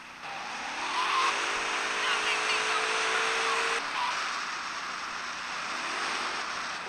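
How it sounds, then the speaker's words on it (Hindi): A stripped car with no body parts driving in the video game GTA Vice City, a steady engine roar with a whooshing, wind-like rush, holding level then easing slightly, with no talk over it. "ये रही मेरी गाड़ी, आप देख सकते हैं इस पर कोई भी बॉडी पार्ट नहीं है और हम गाड़ी को ऐसे ही चलाने वाले हैं"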